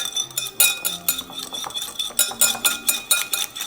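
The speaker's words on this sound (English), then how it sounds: "we're just gonna whisk this up" Eggs being whisked in a bowl, a quick rhythmic series of bright metallic clinks and taps from the whisk against the bowl, close and fairly loud.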